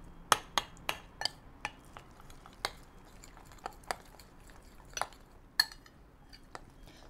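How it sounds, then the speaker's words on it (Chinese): Seasoned minced meat filling is stirred in a bowl, with a series of crisp utensil clinks against the bowl at uneven intervals over a soft background hush. "在搅拌肉的这个过程中呢，它其实是需要一点时间的"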